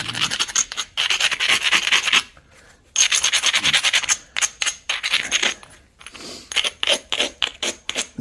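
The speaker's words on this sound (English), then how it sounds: "I'm going to file this, and we're going to abrade it really well." Close rasping and scraping strokes of a coarse abrader filing the edge of an Arkansas novaculite stone point, in bursts of rapid rubbing separated by short pauses, with no talking.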